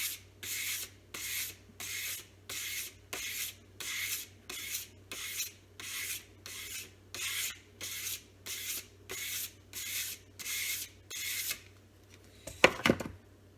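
Convex sharpening on a Bark River Santos knife: about eighteen even, rhythmic rasping strokes drawn straight back across an abrasive, each a bright scrape with short pauses, close and clear, ending in a brief clatter of handling.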